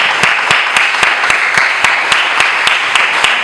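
A church congregation claps in unison during a communion service, loud, crisp claps landing at a steady beat about every quarter second, close and strong, over a bed of broad crowd noise.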